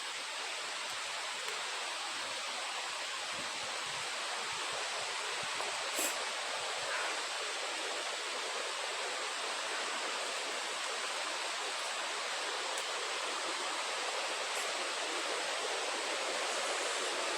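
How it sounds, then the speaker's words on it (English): A waterfall in the Lamington National Park rainforest makes a steady, continuous rushing hiss that stays constant throughout, with no voices over it. "you should be able to hear the waterfall now"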